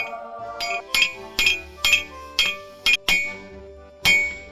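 A hammer forges a warhammer head, thinning the cheeks around the eye. About eight sharp, ringing metal strikes land close up at a steady, uneven rhythm, with no talking.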